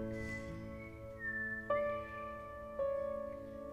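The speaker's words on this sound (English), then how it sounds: "A weak little whistle in the back?" A thin whistled melody drifts over sustained musical tones, a few rising whistle notes sitting quietly behind the music.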